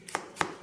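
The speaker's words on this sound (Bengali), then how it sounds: "পেঁয়াজ কাটতেছি" A knife chops onion on a board while making jhal muri, three crisp quick taps spaced evenly, close and fairly quiet.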